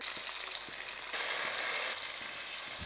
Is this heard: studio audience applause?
no